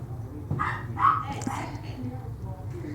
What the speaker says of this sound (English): Sorry about my doggy.